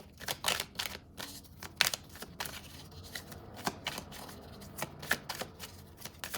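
Tarot cards being shuffled nearby, a series of soft riffling bursts and sharp flicks at irregular intervals, quiet and close, with no talking.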